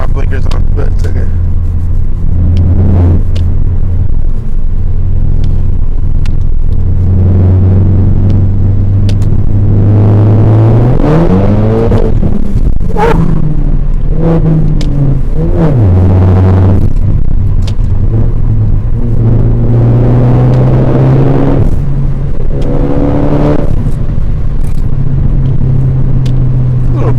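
A tuned Ford Focus ST, E30-tuned, drives along with a loud steady engine drone and rumble that rises and falls with gear changes, heard from inside the car while a person talks over it.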